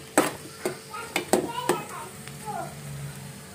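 A spoon stirs a sweet pan of raw papaya halwa in a home kitchen, with sharp scraping knocks against the pan in an uneven rhythm, close by, while a voice talks quietly underneath.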